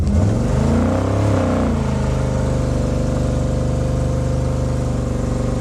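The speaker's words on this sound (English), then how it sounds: "And it shifted into second gear almost instantaneously." A car with an automatic transmission idles and then pulls away in drive, the engine note rising and then dropping as it shifts up quickly, loud and steady close by, with no talking.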